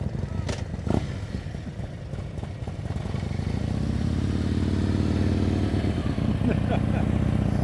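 A motorcycle idles and creeps along during slow-speed riding practice, its engine steady and close, rising into a fuller, continuous drone after a few seconds, with some light clatter early on.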